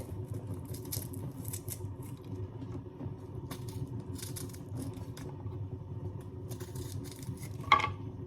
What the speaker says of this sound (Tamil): மிளகா வந்து நல்லா மெல்லிசாக கட் பண்ணணும்